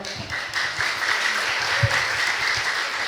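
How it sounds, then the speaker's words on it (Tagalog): A church congregation from Santiago applauds loudly during a celebration service, a continuous wash of clapping with low thumps and background sound throughout. "Sa mga taga Santiago, lakasan pa inyong palakpak."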